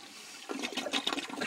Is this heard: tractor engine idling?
no